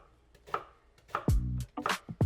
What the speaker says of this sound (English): let's chop this onion